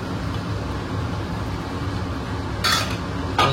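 A spoon clinks and scrapes against a metal pot while a fish boil is stirred, with a steady low rumble of background noise underneath and two bright metallic knocks near the end.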